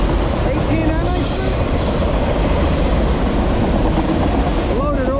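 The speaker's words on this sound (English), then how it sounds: "I almost missed this train." A freight train of loaded autorack cars rolls past close by, making a constant loud rumble with clattering wheels and occasional brief squeals.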